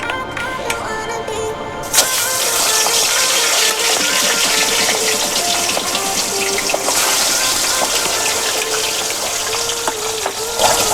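A fish head rubbed with salt and turmeric drops into hot oil, and after a quieter moment a loud, steady sizzle erupts and roars on without pause.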